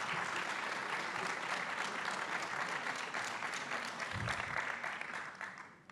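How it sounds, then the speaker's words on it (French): An audience applauds a decorated French parasport champion at a public dialogue event, sustained dense clapping from a large crowd that holds steady for several seconds before thinning at the end. "Alors là, vous pouvez l'applaudir."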